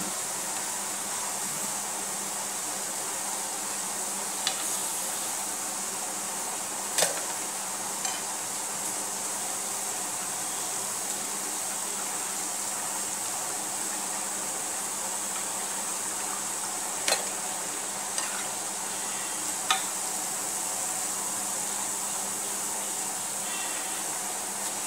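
Appam batter cooking in a pan keeps up a steady, soft hiss and sizzle for a long stretch, with a few isolated sharp clicks now and then and no speech.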